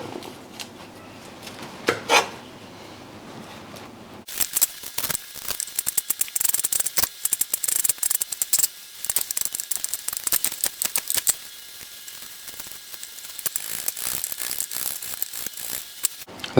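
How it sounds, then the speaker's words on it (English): Rapid, uneven knife chops through a red onion on a cutting board close by, a steady stream of crisp taps and scrapes continuing for several seconds. "Let's start by chopping our red onion."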